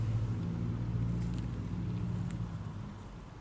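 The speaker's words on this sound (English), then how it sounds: "let's go ahead and start the engine." A 2014 Ram C/V Tradesman engine idles steadily and close by with a deep low hum and faint rattle, fading slightly toward the end.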